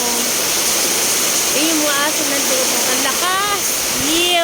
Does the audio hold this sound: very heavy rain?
yes